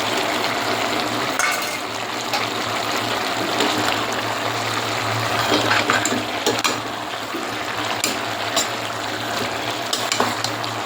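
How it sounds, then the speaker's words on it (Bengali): Tomatoes go into a hot frying pan, a steady loud sizzle and bubbling that runs throughout with small clicks and stirring noises, close by and with no voices. "এখন দিয়ে দিচ্ছি আমি টমেটো দিয়ে দিলাম।"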